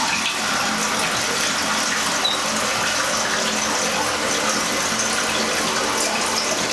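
Steady water rushes into a toilet tank during a lever replacement, a continuous broadband hiss filling the whole stretch at close range with no pauses.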